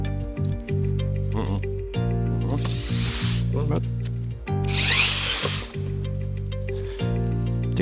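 A power drill drives a screw into a drywall profile while acoustic segment panels are mounted, a loud whirring motor with repeated ratcheting bursts of screw driving, stopping and restarting several times, with people talking between runs.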